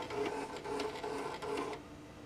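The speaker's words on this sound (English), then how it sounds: "I'm going to press the number 1 button, and the head's going to move over" An SWF embroidery machine head slides over to needle 1, a soft rasping mechanical whir in short repeated pulses, close and quiet.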